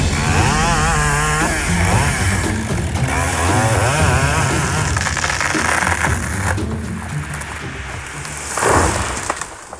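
Husqvarna chainsaw felling timber in a Canadian forest, a loud, close engine whine that rises and falls continuously as the saw cuts, with no talking.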